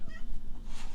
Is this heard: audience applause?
no